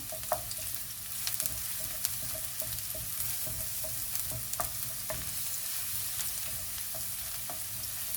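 Garlic stir-fried in a pan, sizzling steadily with the scrape of a utensil and a few sharp clicks over a constant frying hiss; no talking.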